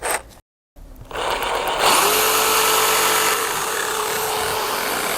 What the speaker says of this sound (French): la scie sauteuse, j'ai mis une petite lame qui est normalement une lame à bois